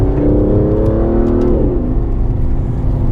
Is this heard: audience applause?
no